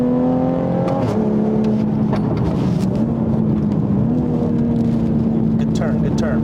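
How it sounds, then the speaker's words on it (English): A tracked 2020 Toyota Supra pulls hard under acceleration, its engine pitch rising and stepping down at several gear shifts with short exhaust blurts, loud from onboard, with someone speaking over it. "I love the shifts because it kind of farts when it shifts."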